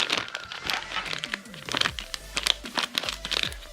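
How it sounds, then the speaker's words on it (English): Quick bursts of plastic packaging crinkling and rustling as parts for a 5-inch FPV freestyle drone build are unpacked, dense and close, with no talking. "I am just going to start taking everything out of its package and organizing."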